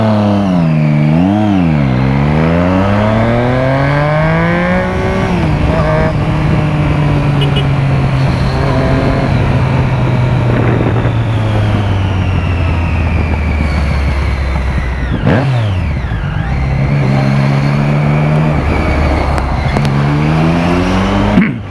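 A car without an exhaust muffler revs loud and close, its engine pitch rising and falling in repeated sweeps, with a long steady drone in the middle and sharp throttle blips near the start and end.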